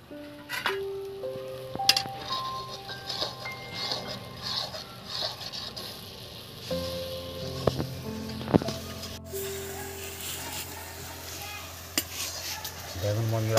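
Spice paste with cloves fries in a pan for a Bengali doi potol dish, keeping up a low sizzle under scattered clinks and scrapes of stirring utensils, with faint talk and background tones.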